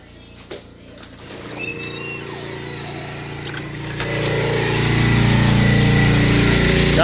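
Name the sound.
portable generator running outdoors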